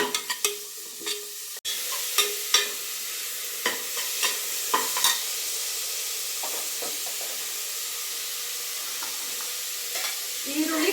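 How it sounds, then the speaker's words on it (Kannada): Onions frying in a pan for mutton head curry, a steady close sizzle broken by repeated knocks and scrapes of a spoon stirring, with no talking. "ಈರುಳ್ಳಿನ ಚೆನ್ನಾಗಿ ಫ್ರೈ ಮಾಡ್ಕೊಂಡೋಣ ಈರುಳ್ಳಿ ಬಣ್ಣ ಚೇಂಜ್ ಆಗಬೇಕು ಒಂದು ಸ್ವಲ್ಪ ಅಲ್ಲಿ ತನಕ ಫ್ರೈ ಮಾಡೋಣ"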